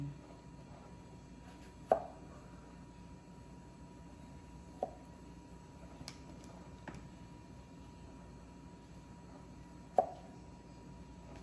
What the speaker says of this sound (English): So I'm going to continue chop these, slice them.